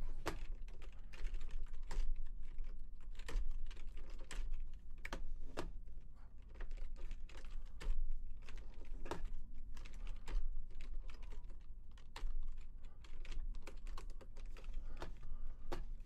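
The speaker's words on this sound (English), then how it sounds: "I was typing right when the assert happened" Someone types steadily on a computer keyboard, fast, irregular keystrokes clicking close and clear with no voices.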